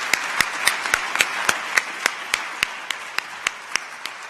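Sparse, evenly spaced claps ring out from an audience at a corporate excellence award ceremony, a slow steady rhythm of single sharp hand claps over a quiet room.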